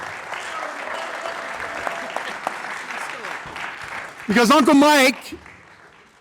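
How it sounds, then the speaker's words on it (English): Audience applause for a football player named Tyler, a short burst of clapping from a small crowd that rises suddenly and cuts off after about a second, following someone talking over a microphone. "Give Tyler a big round of applause"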